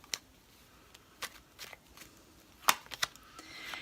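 Tarot cards being shuffled, heard as scattered soft riffles and crisp snaps and taps, close and quiet with short gaps, no speech.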